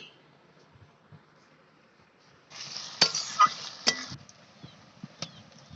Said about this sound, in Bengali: পেঁয়াজ কুচিটা দিয়ে দিলাম দিয়ে একটু নেড়ে নিচ্ছি